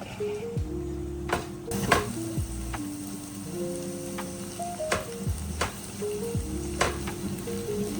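Garlic sizzles gently in a non-stick pan, a soft steady frying hiss broken by occasional taps and scrapes of a utensil against the pan, with no one speaking.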